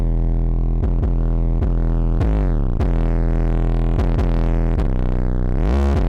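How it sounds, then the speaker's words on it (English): An 808 bass is played in FL Studio through Fruity Blood Overdrive distortion that is slowly raised. Loud, deep notes repeat in an uneven pattern and grow more gritty and buzzy, with no talk. "So play around this knob for distortion"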